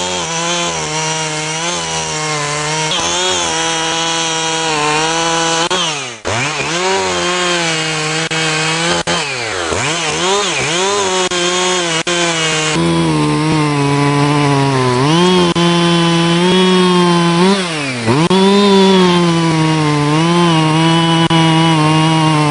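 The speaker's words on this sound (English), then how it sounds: "So now I'm going to start it up again, do a few test cuts there, just to show you guys that the chain is sharp" A freshly sharpened chainsaw runs at high revs and makes test cuts in wood, its loud buzzing whine dipping in pitch as the chain bites in and rising again between cuts, continuous and close throughout.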